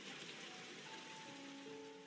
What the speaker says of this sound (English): Just then it begins to rain like a shower turning on. The water starts falling straight down in buckets.